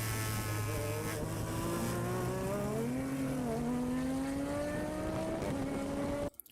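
Onboard engine of a Japanese single-seater race car, a loud, continuous high-revving drone that climbs steadily in pitch through the gears with brief shifts, close and dominant, cutting off abruptly at the end.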